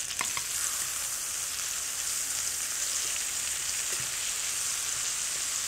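Figs sear flesh-side down in a hot pan, producing a dense, even sizzle that holds steady and close, with a couple of faint taps near the start.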